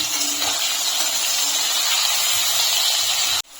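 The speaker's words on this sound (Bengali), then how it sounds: "এখন আমি উচ্ছগুলোকে লাল লাল করে ভেজে নেব" Bitter gourd pieces, salted and turmeric-dusted, frying in the oil left from frying fritters, making a steady, loud, close hiss of bubbling oil that runs unbroken and then cuts off abruptly near the end.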